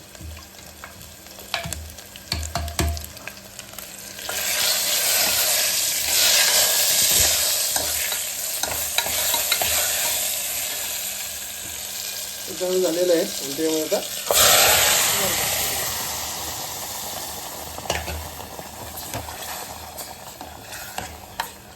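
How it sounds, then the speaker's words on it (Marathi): Whole uncut garlic crackling and sizzling in hot oil as a tempering, swelling loud as it hits the pan and hissing steadily, with a few spoken words and stirring clatter. "अशी आपण फोडणी दिली लसणीचा सुगंध आला"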